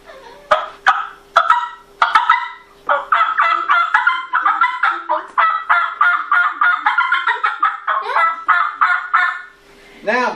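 A hand-held turkey call imitates a mother wild turkey's yelping: a few sharp opening notes, then a long, rapid, insistent run of raspy yelps close and loud, with no talking over it.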